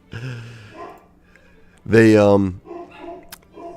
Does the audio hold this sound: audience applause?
no